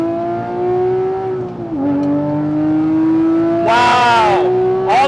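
A Porsche 997.2 GT3 RS with its 3.8-litre engine is driven hard on a race track, the engine pitch climbing steadily under acceleration, with a brief dip at a gear change and a loud burst of high revving near the end.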